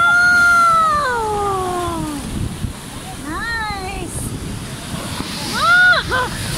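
Large ocean waves surge and break on a beach at an island shore, a steady roar with wind noise against the microphone, while people talk and exclaim close by.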